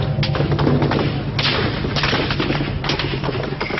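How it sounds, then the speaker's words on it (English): Heavy army gunfire with live ammunition at Tiananmen Square, 1989, booms in rapid, continuous bursts, with deep thuds and sharp cracks overlapping throughout. "you just hear this thunderous sound of gunfire."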